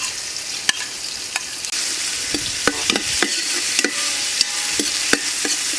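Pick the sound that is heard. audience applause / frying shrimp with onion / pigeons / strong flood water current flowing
frying shrimp with onion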